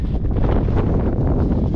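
Strong wind buffeting the microphone outdoors on an Alpine hike near La Rosière, a loud, continuous low rumble with gusty surges throughout.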